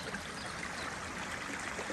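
A woodland stream near Frenchman's Creek in the Helford woods runs steadily, a close, even rush and trickle of water with no other sounds.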